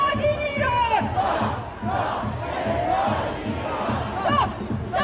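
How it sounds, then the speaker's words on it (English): Protest crowd at an Iranian rally chants in rhythmic unison, loud and close, with a regular repeating beat of voices and occasional higher individual shouts rising over it. "But tonight, as we speak, this is the crowd."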